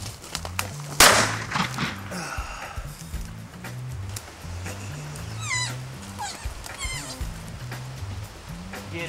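A female hunting dog working a rabbit hunt in the field gives repeated low, yelping calls over several seconds, with one sharp crack near the start and scattered chirps in the background.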